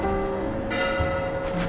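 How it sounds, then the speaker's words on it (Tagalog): A church bell rings with sustained, resonant tones over a steady background hum, the tolling continuing throughout. "Ang kampana ng simbahan ay umiingay na ng mabuti."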